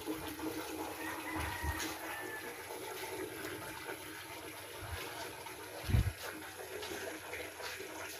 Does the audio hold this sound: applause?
no